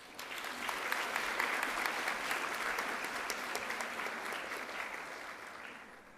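Sustained applause from a school assembly audience at a girls' grammar school badge ceremony, dense clapping that holds steady for about six seconds before easing slightly.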